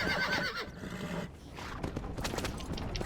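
A horse in the Red Dead Redemption video game gives a sharp whinny, with hoof clip-clops and game noise in a busy, loud mix, a voice briefly under it.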